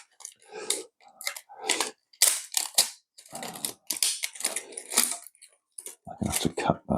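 Sharp cracking and snapping of 3D-printed support layers being broken away from a printed RC truck part, many irregular bursts close by, with some talk mixed in.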